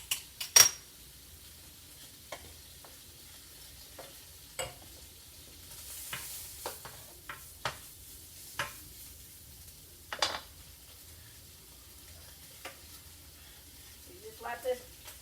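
Gumbo roux cooks in oil in a pot, giving a faint low sizzle broken by occasional clinks and scrapes of a spoon against the pot, with someone talking at intervals.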